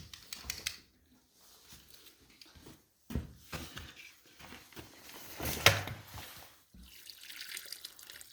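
Tap water splashes into a lime mortar mix being prepared by hand to repoint old stone cottage walls, with irregular gushing and pattering bursts broken by short pauses, close and moderately loud.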